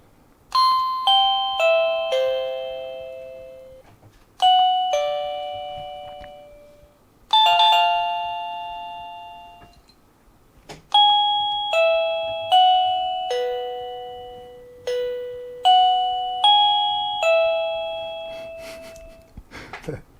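An Aibont R195-BB wireless doorbell plays a run of short chime tunes, each a few bright descending ding-dong notes that ring out and decay, separated by brief pauses, loud and clear with no voices.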